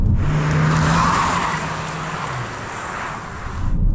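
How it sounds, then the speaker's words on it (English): A 2026 Kia Carnival Hybrid accelerates hard with a roaring engine, the tires briefly spinning and squealing before the revs settle into a steady drive. "Bit of wheel spin there."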